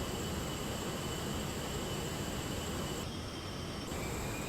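Steady broadband roar of the Aerobask ViperJet LXR jet engine in the X-Plane 10 flight simulator, heard from inside as a constant cabin drone with no voices.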